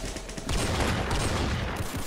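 Gunfire in a Roblox shooter video game, a dense burst of blasts that swells into a sustained loud rumble of rapid shots, close and continuous with no talking.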